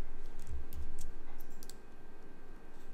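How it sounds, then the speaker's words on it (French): A few sharp computer mouse clicks while exporting a document in InDesign, faint ticks scattered over a low hum, close and without talk. "On clique sur exporter."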